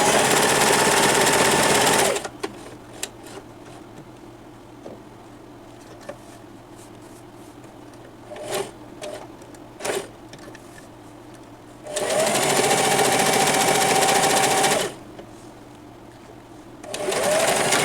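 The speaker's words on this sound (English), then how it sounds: "I'm going to leave an opening so that I can flip it and then sew it on the outside" Sewing machine stitching purse lining fabric in two loud, steady bursts, a short one at the start and a longer run near the end, with quiet handling noises and clicks between them.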